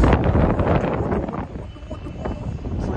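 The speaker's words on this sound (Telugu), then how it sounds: "ఫుల్ గాలి మామూలుగా లేదు." Strong wind buffets the microphone on a hilltop, a loud, rough low roar that surges and dips unevenly throughout.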